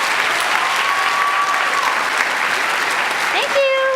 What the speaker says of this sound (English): And one more round of applause for our exec skill and technical skills.